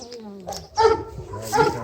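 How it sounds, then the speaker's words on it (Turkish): Several dogs bark and yip in short bursts, fairly close, with people talking over and between the barks. "Bir sürü köpek."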